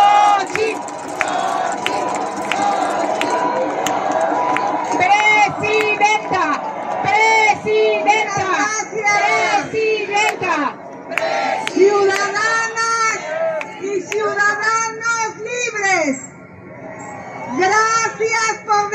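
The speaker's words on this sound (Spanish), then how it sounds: "Xóchitl Gálvez Ruiz, para quien pida una ovación." Crowd at a pink-themed march for democracy in Mexico City roars and chants a candidate's name in rhythmic waves, loud cheering and shouting voices rising and falling with brief lulls, a big open-air rally.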